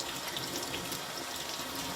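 Cold tap water runs steadily into a sink while freshly made butter is washed under it, a continuous close splashing hiss with no talk.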